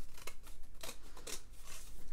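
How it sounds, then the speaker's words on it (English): Scissors cut through a box's cardstock along a score line, a series of repeated crisp snipping strokes in a quick, uneven rhythm, close and fairly loud. "We're gonna cut right there to that score line and cut that off."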